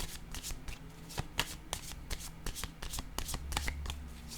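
Playing cards being drawn and shuffled, a steady run of crisp riffling snaps and flutters, close and fairly loud, with no voices over it.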